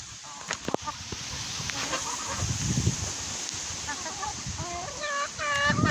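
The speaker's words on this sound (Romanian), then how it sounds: "Am arătat găinile, curcile, gâștele, bobocii de rață." Farmyard poultry, including chickens, turkeys, geese and ducklings, cluck and call in repeated short bursts. The calls grow busier toward the end over a constant outdoor background hiss.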